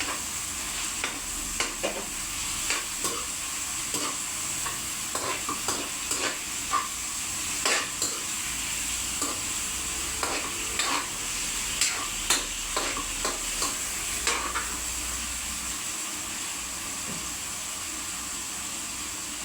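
Cabbage and leftover chayote sautéed with chicken in a pan, giving a steady sizzle with repeated scraping stir strokes and clinks, close and moderately loud with no talking.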